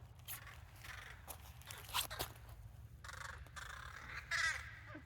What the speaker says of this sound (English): fighting ravens and crows in the sky